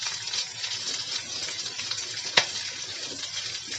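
Carrots and capsicum with a little salt frying in a pan for white sauce pasta, a steady soft sizzle with light stirring and one sharp clink partway through.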